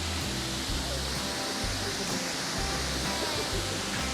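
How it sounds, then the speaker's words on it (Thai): A steady, dense roar of falling water from Haew Narok waterfall in Khao Yai, Thailand, close and unbroken from start to finish. "มาดูน้ำตกใกล้ๆ ที่นี่"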